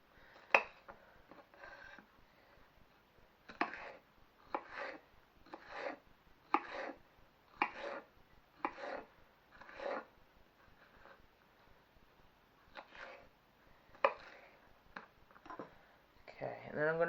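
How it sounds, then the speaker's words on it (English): A knife slices through a quarter of a red pepper on a board, giving a long series of crisp, evenly spaced cuts in a quiet kitchen, with no talking over them. "I'm going to take a quarter of a red pepper, about that much, and I'm going to slice this up."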